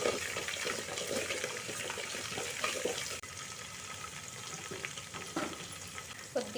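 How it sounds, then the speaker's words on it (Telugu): Moong dal frying in a pan with ginger pieces and salt for pongal gives a dense, steady sizzle with soft stirring scrapes, close and continuous, with no voices. "ఇది బాగా ఫ్రై చేసుకోవాలండి."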